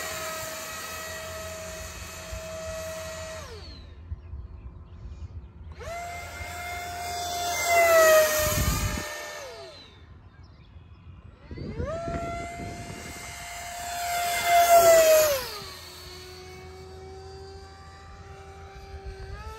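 A X-Fly T-7A Red Hawk 64mm EDF RC jet whines past twice, each pass a rising and falling high-pitched ducted-fan howl that peaks loud as it crosses near, then fades off between runs.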